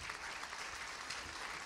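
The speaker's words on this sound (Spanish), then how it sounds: "un aplauso a esa persona linda" A church congregation at a Spanish-language worship service applauds a generous donor, a dense, even wash of clapping filling the short moment without pause or voices.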